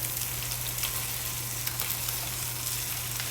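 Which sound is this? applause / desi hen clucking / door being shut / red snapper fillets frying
red snapper fillets frying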